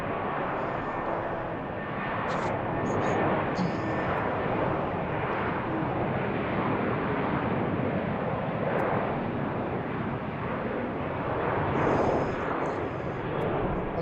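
A jet departing BWI airport thunders steadily for the whole stretch, a loud, broad engine roar that swells and holds without pause, with brief high tones faintly overhead.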